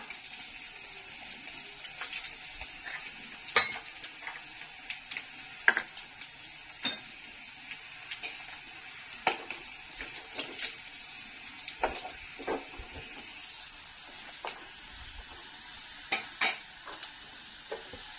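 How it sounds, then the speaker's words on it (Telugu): Quiet, steady sizzling of dried red chillies frying in oil, punctuated by scattered sharp crackles and occasional clinks of a utensil against the pan. "ఇప్పుడు ఎండుమిర్చి వేసుకుందాం"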